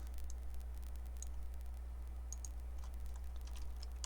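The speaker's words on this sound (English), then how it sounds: "So what I'm going to type into my calculator here is" Faint, scattered button taps on a calculator as numbers are keyed in for a bent-pipe length calculation, light irregular clicks over a steady low hum, with no talk.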